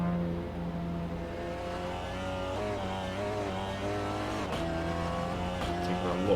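In-car view of a Seat Cupra race car on track at Grobnik, the engine droning and revving with shifting harmonic pitch, brief gear changes and tire noise, steady and close.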